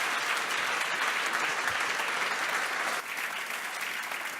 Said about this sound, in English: Big warm round of applause for Felix and Julia.